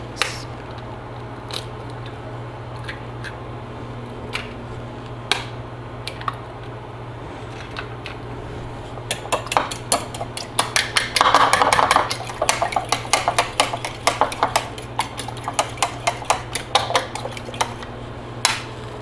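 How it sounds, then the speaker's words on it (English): Sparse utensil taps against a bowl at first, then rapid clinking of a fork whisking eggs, fast and rhythmic, close up, easing back to scattered taps. "Beat the eggs."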